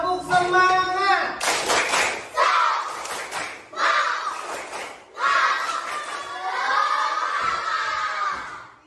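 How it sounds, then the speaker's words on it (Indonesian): Children in an Indonesian classroom do a group spirit clap, a burst of rhythmic clapping mixed with excited shouting and chanting voices, fairly loud and close throughout. "Coba sekali lagi, tepuk semangat"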